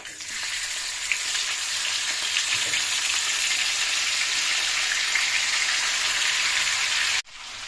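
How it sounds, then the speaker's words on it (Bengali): Mutton sizzling loudly in hot oil with cinnamon, cardamom and cloves in a kadai, a dense continuous fry that holds steady before a sudden brief cutoff near the end. "এটা মোটামুটি তেল গরমও হয়ে গেছে। এইবার আমি এতে তুলে দেব মাটনটা।"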